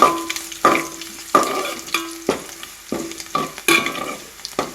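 A spoon stirs spluttering mustard seeds in a hot pan for pineapple pickle, giving a series of about eight sharp scraping strokes at a steady rhythm over a constant crackling sizzle, close and fairly loud, with no talking.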